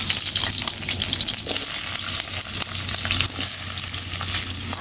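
Potatoes frying in a pan in a village kitchen, producing a continuous loud sizzle with occasional stirring scrapes, close up and without talk.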